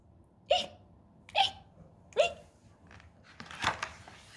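A voice imitates hiccups with three evenly spaced, sharp hic sounds, followed by a breathier fourth, close and moderately loud.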